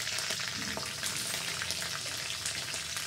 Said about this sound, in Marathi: आता याच्यावर आपण जिरे टाकणार आहोत.